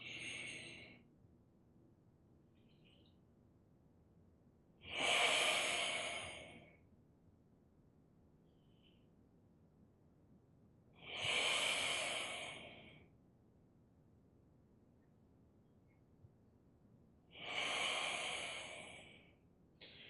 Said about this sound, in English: as you sink into the dantian and the Mingmen, you breathe out through the lips